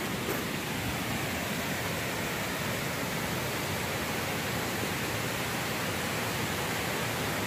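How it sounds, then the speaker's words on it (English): Big waterfalls close by, a loud, unbroken roar of falling water that fills the whole moment with steady broadband rushing and no pauses. "Coming up to these big waterfalls."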